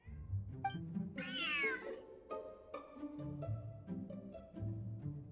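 A cat in Genshin Impact meows several times in a row, one long rising, whiny meow standing out clearly among shorter calls, with soft game music beneath.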